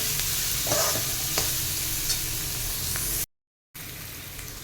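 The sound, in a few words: onion being sautéed in a pan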